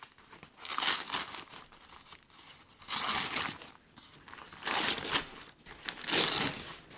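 Crinkly plastic and paper being torn and crumpled in several bursts as a houseplant shipping package is opened, close up, with quieter rustling between them.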